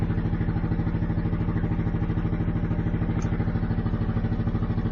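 A boat's inboard engine idles steadily while warming up, a continuous close, even mechanical chugging with a fast regular pulse and no speech over it.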